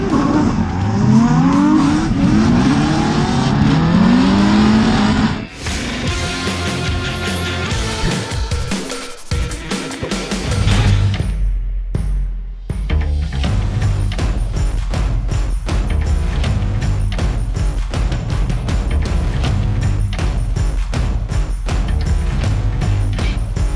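Supercharged LS-powered Nissan Skyline R33 drift car roaring loud and close, with engine revs rising and falling, tire squeal and skidding, a brief drop in the middle, then sustained high-revving drifting to the end.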